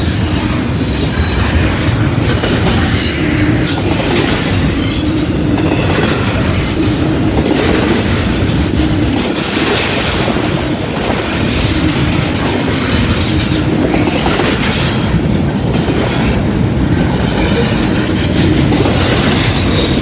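A long freight train rolls past a rail line near Hamilton, its railcars rumbling loudly and steadily throughout with continuous high-pitched wheel squeal riding over the clatter, no voices heard.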